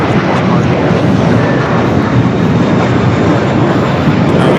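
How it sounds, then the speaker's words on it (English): An Air France airliner arrives at LAX on the south side, a loud, continuous roar of jet engines close by with a dense broadband rumble that masks everything else. "We got Air France arriving here on the south side."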